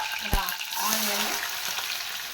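Onion, green chilli and curry leaves frying lightly in oil after mustard seeds, a soft steady sizzle with a sharp clatter near the start and faint stirring, no talking.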